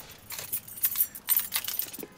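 Car keys jangle close up in a parked car with the engine off, in several quick metallic bursts of shaking and clinking.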